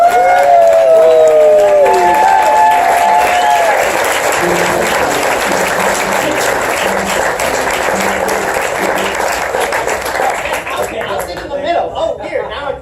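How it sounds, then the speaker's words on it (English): A theater audience applauding loudly and steadily for a congressman, with some cheering at the start, fading toward the end. "Please, a round of applause"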